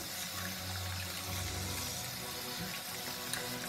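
Cold tap water running over a plastic doll's hair being rinsed, a steady close splashing flow with a low hum underneath, continuous throughout.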